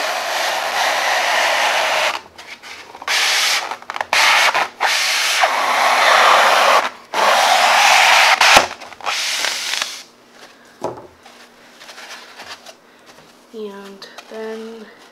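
Thick floral foam cut in half, a loud, close, rough hissing scrape in long bursts separated by short pauses, with a brief voice near the end.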